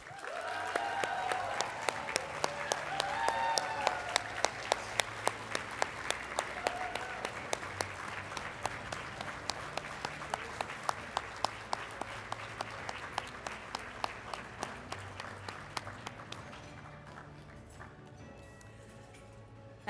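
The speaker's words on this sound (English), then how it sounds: "And another big round of applause, please" Audience applause at a NOSM University achievement celebration honouring faculty award recipients: a broad, sustained wash of clapping with a few sharp, distinct claps standing out, tapering off and thinning toward the end.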